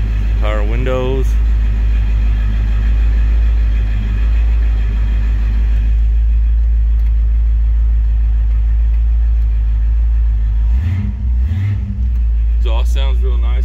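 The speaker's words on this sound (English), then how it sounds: "See if we can fire her up, let you hear it run." A 1941 Ford Deluxe with an electric fuel pump idles in a loud, steady low rumble that runs throughout, with a voice talking over it at the start and end.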